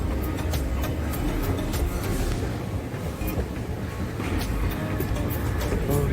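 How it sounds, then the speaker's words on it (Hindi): A loud, continuous rumble and rattle of a Dubai Metro train pulling in close by, with steady wheel noise and no pauses. "और ये हमारी ट्रेन आ गई है, ठीक है। ये ट्रेन आ चुकी है।"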